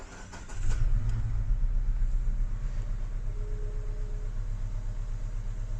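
A car engine started with its push-button self-starter fires up with a sudden burst and then settles into a steady, close, low idle rumble that continues for several seconds.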